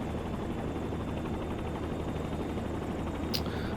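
A helicopter lifts off for a gentle takeoff during a flight lesson, its rotor and engine a steady loud whirring drone heard close up, with a brief high chirp near the end.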